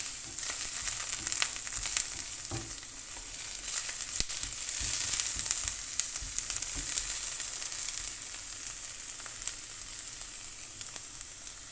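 Minced meat and dried mushrooms fry in a pan for ramen, giving a dense, continuous crackling sizzle with small pops and occasional stirring, fairly close and steady throughout.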